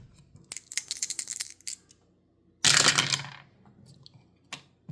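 Dice rattle and tumble across a table for a Strat-O-Matic tabletop baseball game, a cluster of small clicks followed by a louder clattering roll, then a few faint taps as they settle, with no speech.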